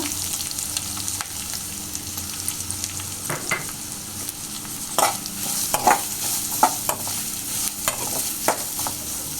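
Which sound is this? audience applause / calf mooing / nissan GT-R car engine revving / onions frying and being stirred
onions frying and being stirred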